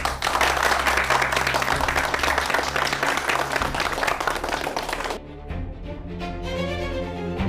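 Villagers at a village meeting break into loud, sustained applause for about five seconds, thick rapid clapping filling the space, which then cuts off abruptly into quieter background with music-like tones.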